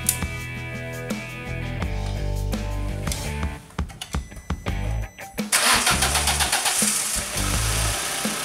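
A car engine is started with a POPDEER jump starter: several seconds of uneven, rhythmic cranking, then the engine catches and settles into a loud, steady idle close by.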